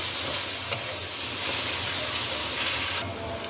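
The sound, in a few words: onions frying with garlic ginger paste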